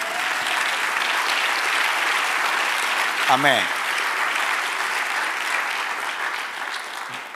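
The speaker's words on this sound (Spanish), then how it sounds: "Dale un aplauso al Señor" Sustained applause from a church congregation during a sermon, a dense even wash of clapping throughout, with a brief spoken word partway through.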